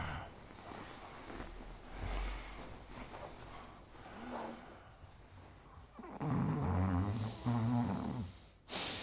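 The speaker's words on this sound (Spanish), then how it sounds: "Que estás roncando." A person snoring in bed, with slow, rasping, rhythmic snores rising between quieter breaths and growing louder and more guttural toward the end, close up and without talk.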